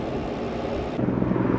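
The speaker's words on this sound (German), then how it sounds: "das ist ja schon ein dickerer Hubschrauber" A large military helicopter roars overhead, its heavy rotor chop and engine drone loud and close, growing rougher toward the end.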